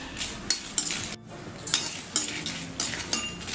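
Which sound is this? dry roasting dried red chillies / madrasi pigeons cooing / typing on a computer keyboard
dry roasting dried red chillies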